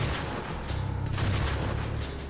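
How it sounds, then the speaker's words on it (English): Shotgun blasts in the first-person shooter Wrack, a dense run of booming shots with a heavy low-end thump, close and loud and continuous across the whole moment. "That's a shotgun"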